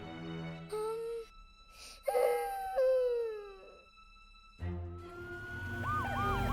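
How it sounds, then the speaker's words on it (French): Cartoon sirens from a toy-like fire engine, ambulance and police car arrive in an animated show, rising and falling wails sweeping up and down over music, loud and close, with a bright whooping siren returning near the end. "voilà Scout et elle a amené Ashley le camion de pompiers, Amber l'ambulance et Otis la voiture de police avec elle"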